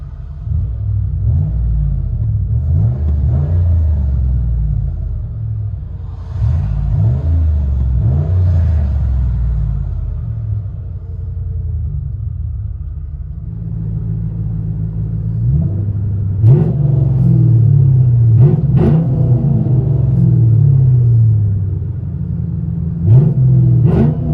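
Deep, loud V8 engine rumble of a 2002 Lincoln Continental 4.6L with muffler delete, heard from inside the car, rising and falling as it revs and accelerates, with occasional clicks and knocks.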